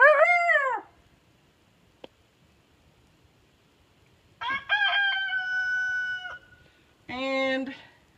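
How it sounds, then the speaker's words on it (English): Roosters crow nearby, three loud drawn-out calls separated by quiet pauses, the last two long and strained. "Got roosters crowing in the background."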